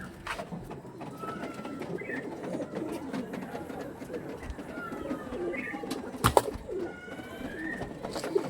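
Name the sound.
pigeons cooing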